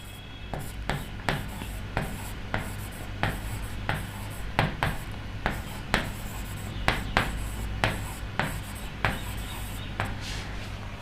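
Chalk or marker scratching on a classroom board as a teacher writes, a string of short irregular strokes and taps over a steady low background hum, close and moderately loud.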